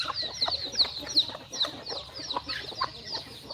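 A rooster clucks amid farmyard fowl, a series of short, repeated clucks and chirpy calls at close range with busy background bird noise.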